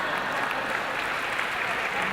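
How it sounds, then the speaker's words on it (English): Audience applause at a closing reception and dinner, a steady dense wash of clapping filling the whole short span at even loudness, with some voices mixed in. "Yes, another big applause to Maria Celeste."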